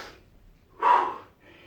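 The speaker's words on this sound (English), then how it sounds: "So the breathing, sniff in, breathe out." A soft breath at the start, a louder sniff-like inhale in the middle, then a quieter exhale trailing off during a kettlebell workout; close and isolated, no talking.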